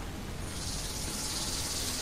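Swarm of insects in the video game ARK: Survival Evolved Genesis, a dense continuous buzzing hiss that stays loud and steady without pause.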